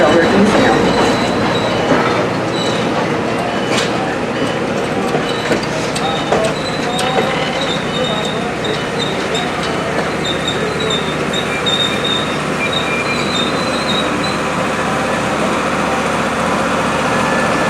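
Riding aboard the Tennessee Valley Railroad Museum's Missionary Ridge Local heritage train in Chattanooga, led by locomotive TAG #80: a steady loud rumble of rolling cars with rhythmic wheel clicks and high wheel squeals, plus faint voices inside.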